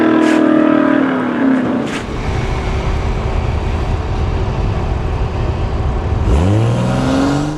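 Tesla Plaid and a 468ci Camaro launching at a dragstrip: a loud, continuous roar of engine and tyre noise with a sharp revving sweep near the end, no speech.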